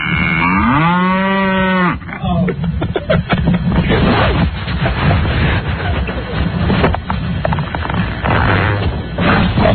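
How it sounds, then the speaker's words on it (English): A short, loud cow moo sound effect opens, then gives way to several seconds of busy, noisy clatter and thumps that may include voices. "That's a cow, though."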